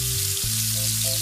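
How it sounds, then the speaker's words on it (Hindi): Dum kebabs browning in a pan give a loud, unbroken hiss of frying oil, with steady tonal hums running underneath, and no one talks. "इस तरह से हमने ये जो सारे कबाब हैं वो लाइट लाइट से हमने ब्राउन कर लेने हैं"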